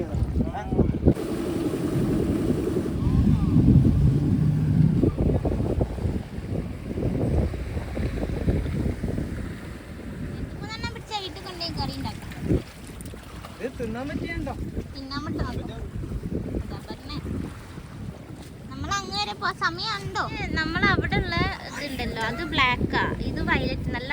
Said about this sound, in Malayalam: ഞങ്ങളെ കൊണ്ടുപോകാനുള്ള കുഞ്ഞി ബോട്ട് വന്നിട്ടുണ്ട്